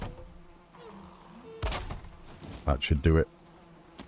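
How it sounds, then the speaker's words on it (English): Bees buzz faintly in the Valheim video game, a thin steady hum sitting beneath a few hollow wooden building thuds and knocks, with a brief spoken phrase near the end. "those bees are perfectly fine there"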